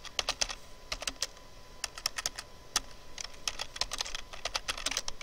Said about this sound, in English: So I'm going to type something